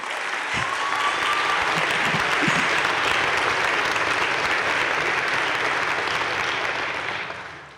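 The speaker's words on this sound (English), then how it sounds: "Could we give him a round of applause" A large audience at a college honors convocation breaks into sustained applause, dense and even clapping that swells quickly, holds steady for several seconds, then trails off at the end.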